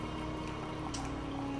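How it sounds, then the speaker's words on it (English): Water is poured steadily over coffee grounds, a soft continuous trickle and splash heard faintly and close up, with no voices. "So just go ahead and pour it in."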